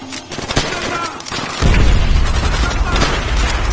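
A grenade blast in Call of Duty: World at War, a heavy booming explosion that rolls into sustained rumble, following scattered gunfire and battlefield noise, loud and near.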